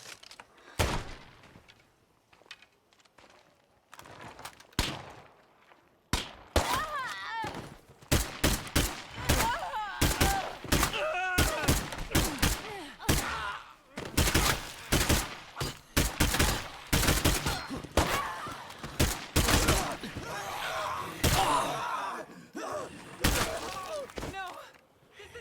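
Rapid gunfire in the zombie survival game State of Decay 2 with a mod, sharp shots fired in quick bursts and scattered volleys, loud and close, with a voice talking between them.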